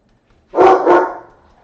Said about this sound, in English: that's one of the dogs barking.